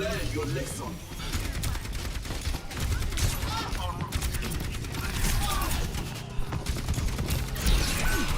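Dense, continuous gunfire in Overwatch 2, rapid automatic shots and crashing impacts layered throughout with game speech underneath.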